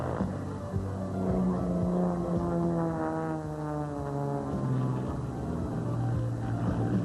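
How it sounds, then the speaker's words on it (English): Aerobatic airplane performing fast point rolls at an air show, its engine drone steady and sustained throughout, with shifting tonal bands as the aircraft passes and rolls. "as that airplane goes through point rolls, you'll notice it's rolling very rapidly"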